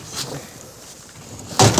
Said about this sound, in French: Alors, je vais t'ouvrir la porte.